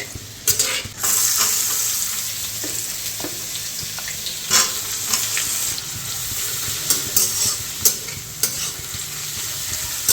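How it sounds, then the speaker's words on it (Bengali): Onion and garlic frying in a pan, a constant close sizzle with intermittent clinks and scrapes of stirring against the pan. "পেঁয়াজটা অল্প ভাজা হয়ে গেছে"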